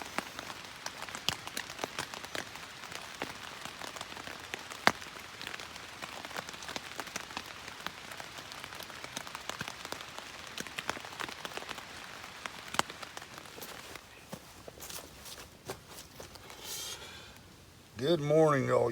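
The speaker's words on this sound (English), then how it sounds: "just listen to the rain" Steady rain patters on a tent or tarp at an overnight woodland camp, a dense continuous hiss with scattered sharper drops, ending in a brief louder rustle close by.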